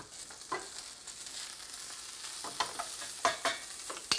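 Eggplant sears in butter in a hot pan, a steady fizzing sizzle with a few louder spatters and stirring scrapes near the end, close and alone without voices.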